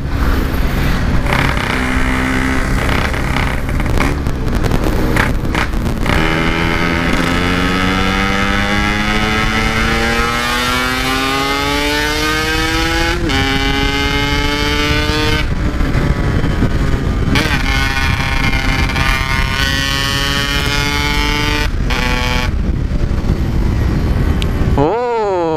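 A Yamaha RX King motorcycle is ridden along a road, its engine loud and close throughout, pitch climbing steadily through each gear and dropping sharply at the shifts.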